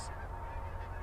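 Specklebelly geese honk faintly during a goose hunt over silhouette decoys, a brief distant call standing above a low, steady outdoor rumble.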